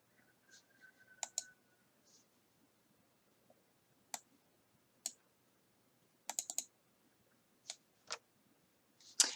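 Sparse, sharp clicks from a computer keyboard come in short irregular bursts against near silence, close and fairly quiet, with long pauses between the keystrokes.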